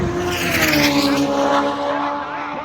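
A Mustang race car launches down the drag strip with a loud, sustained engine roar that rises in pitch over a few seconds, close by, with tyre noise and crowd ambience behind it.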